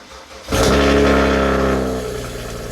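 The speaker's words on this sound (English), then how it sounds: "let's go ahead and see if we can get the 335i started" A BMW 335i cranks and fires into a loud start after a half-second of quiet, then settles into a strong, rumbling high idle that slowly eases off, heard up close.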